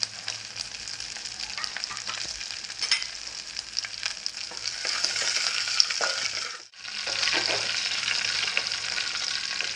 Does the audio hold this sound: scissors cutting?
no